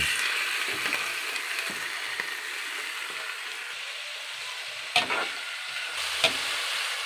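Onion, ginger and chicken sauté in oil for tinolang manok, giving a continuous close sizzle marked by a few sharp scrapes and clinks of stirring.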